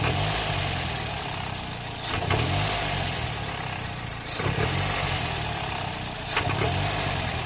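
A 2000 Toyota Corolla engine idles roughly close up, a steady mid-pitched drone that dips and surges periodically as though about to stall.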